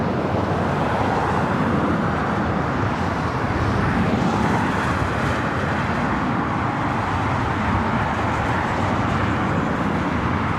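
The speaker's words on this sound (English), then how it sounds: "we will more than likely close out today's show with this takeoff here on the north side." A KLM airplane taking off from the north side of LAX, a loud, broad continuous engine roar that holds steady throughout, dense and rumbling with no talking.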